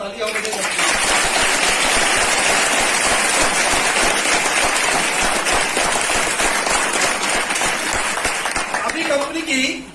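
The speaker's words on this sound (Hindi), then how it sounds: "जोरदार तालियां होने चाहिए।" A large crowd at a networking training session breaks into loud, dense applause that holds steady and sustained for about ten seconds before tapering off at the end.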